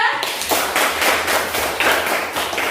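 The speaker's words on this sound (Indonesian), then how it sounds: "tepuk tangan untuk kelompok 2" A classroom group applauds after a presentation, brisk clapping from many hands, loud and sustained with a slightly rhythmic pulse, and a brief voice at the very start.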